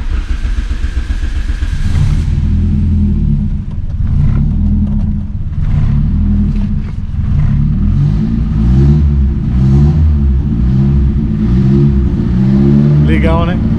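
A turbocharged 78 hp Ford Escort engine runs steadily and revs up, a loud continuous mid-range drone with rising and falling pulses, close by, with people talking over it.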